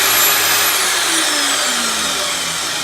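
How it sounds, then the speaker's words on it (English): An Aldi Workzone portable band saw fitted with an added blade guard runs steadily at close range, giving a continuous whining motor drone with a slowly falling tone and no speech. "The bandsaw still works as it did originally."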